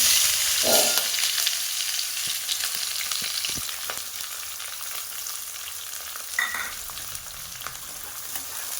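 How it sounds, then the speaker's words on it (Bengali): Onions sizzling in hot oil for a village-style Bengali mutton curry with potatoes, a steady close frying crackle with a few stirring scrapes and no talk. "পেঁয়াজটাকে একটু লাল লাল করে ভেজে নেব"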